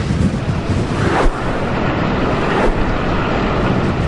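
Hurricane Sandy storm winds buffeting the microphone alongside crashing ocean surf at Atlantic City on the Jersey shore, a loud continuous roar with gusting swells.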